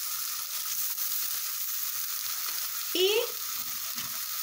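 Pork chops frying in a pan, a steady close hiss of sizzling fat that runs throughout, with a brief louder scrape of stirring near the end.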